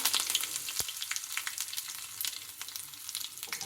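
Cumin, urad dal, chana dal and curry leaves sizzle and crackle in hot oil for a brinjal bajji curry, a close, busy frying hiss with sharp pops, no voices.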